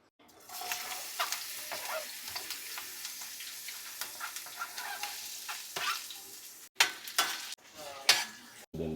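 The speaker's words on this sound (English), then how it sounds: "To the hot oil, we're going to go into our onions." Onions sizzle steadily in hot coconut oil in a pan, with scattered stirring clicks and a few louder spatula scrapes and bursts near the end.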